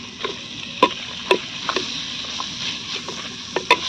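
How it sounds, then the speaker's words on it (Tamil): Tomatoes tipped into a hot pan and stirred for a bottle gourd and moth bean gravy, giving a steady low sizzle with scattered light scraping and clinking strokes. "இனி வந்து தக்காளி போட்டுக்கலாம்."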